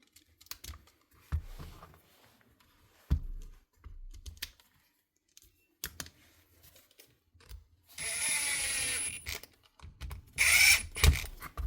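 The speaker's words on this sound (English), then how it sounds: "Put the gearbox screws back in." Screws go back into the gearbox of a faulty Makita power tool, heard as scattered small clicks and taps with short bursts of whirring driver noise near the end, close and fairly quiet.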